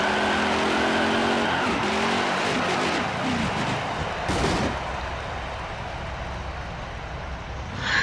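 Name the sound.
race car tire burnouts in NASCAR Heat 5 video game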